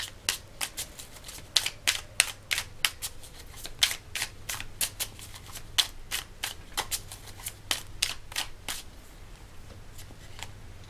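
Tarot cards shuffled by hand, a brisk run of sharp, close riffling slaps in an uneven rhythm, alone over a low steady hum.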